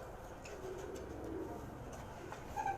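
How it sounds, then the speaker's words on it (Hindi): Pigeons said to come from India coo softly in Karachi, low murmuring calls repeating faintly over steady background noise, with no talk. "ये इंडिया से आए हैं ये कबूतर"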